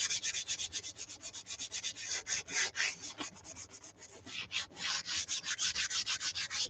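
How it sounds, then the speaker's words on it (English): Hand sanding of a wooden lapboard with sandpaper: steady, close rhythmic rubbing strokes repeating quickly throughout, fairly quiet, with no talking. "I'm sanding it so that the stuff will stick down on it."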